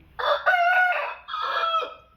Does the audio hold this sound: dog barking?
no